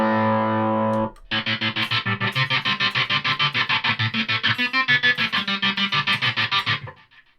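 An electric guitar runs through a Yamaha Magicstomp multi-effects pedal set to a distorted, modulated patch: a sustained chord first, then a fast run of rhythmic pulsing notes, loud and alone with no talk.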